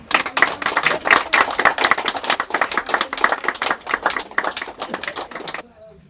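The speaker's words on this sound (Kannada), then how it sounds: "ಚಪ್ಪಾಳೆ" A crowd at a devotional gathering claps steadily in quick, crisp bursts, loud and close, with some voices underneath before it stops near the end.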